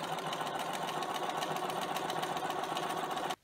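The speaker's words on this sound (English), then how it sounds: "just edge stitch right across along the top" A sewing machine runs steadily while edge stitching along the top of a garden apron, a close, rapid mechanical hum with an even stitching pulse that stops abruptly at the end.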